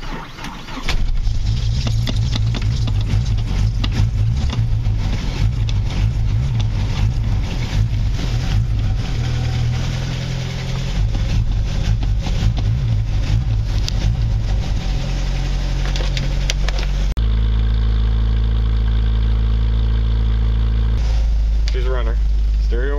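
An old Jeep YJ engine cold-starts and settles into a rough, steady idle with a deep low rumble throughout, close and loud, then changes tone near the end as the engine note shifts.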